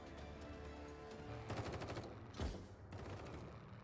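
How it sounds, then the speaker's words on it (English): Machine gun fire in the animated show RWBY: rapid, dense bursts of automatic firing break out midway over a steady background, with a heavy impact and a second burst following, fairly loud and close. "Machine gun blasting."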